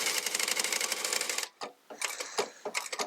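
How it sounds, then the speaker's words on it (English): A sewing machine pulls upholstery fabric through in a fast, continuous mechanical chatter, then breaks into short stop-start bursts of stitching. "I'm just letting the machine do the work. The machine's pulling the fabric through."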